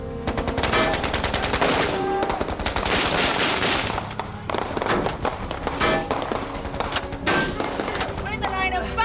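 Rapid bursts of gunfire crackle loud and close in dense volleys, repeating throughout with barely a pause, while voices shout beneath the shooting.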